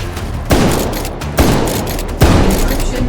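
Shotgun blasts in the VR game H3VR, three loud, sharp booms roughly a second apart, each with a short decaying tail over a busy game background.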